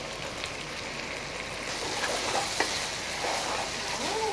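Eggplant stir-fried in a wok with dark soy sauce sizzles steadily as a spatula scrapes and stirs, a soft, even frying hiss with light clinks, no voices.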